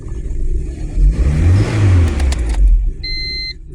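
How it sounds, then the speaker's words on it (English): A tuned car engine with its idle valve disabled revs up in several quick bursts, rising and falling roars close by, followed by a short electronic beep tone near the end. "I thought I'd get lucky by revving it and clicking the key"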